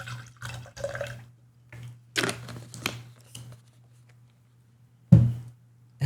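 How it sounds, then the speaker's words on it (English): Lemonade poured into a glass in short bursts, splashing and trickling liquid in several separate pours with pauses between, close up over a constant low hum. "So I'm pouring my lemonade in."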